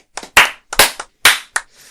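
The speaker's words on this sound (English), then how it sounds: "Should we give them a round of applause? Not too loud" A small, deliberately quiet round of applause for Portugal, the new European football champions: a handful of close, crisp hand claps in uneven bursts with brief silences between, from just one or two people.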